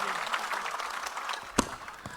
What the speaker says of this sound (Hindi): एक बार जोरदार तालियों के साथ इस बात का समर्थन कीजिएगा।